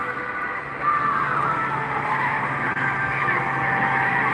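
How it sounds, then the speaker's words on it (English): A small tractor engine drones steadily nearby at a drag strip, with a continuous scraping rumble as it drags the track surface. "See the tractor there dragging."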